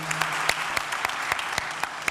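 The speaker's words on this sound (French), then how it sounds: "j'aimerais bien qu'on les applaudisse" Audience at a business and tech networking evening's opening session applauds with steady, dense clapping throughout, a few louder individual claps standing out above the wash, with no speech over it.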